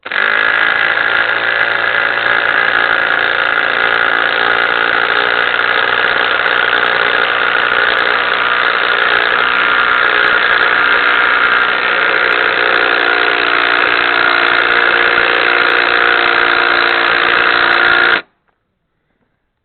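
A continuous loud motorized whine and rattling hammer of a small 1/4-inch impact driver sinking 1/2-inch bolts into pre-drilled holes without pause, then cutting off abruptly near the end.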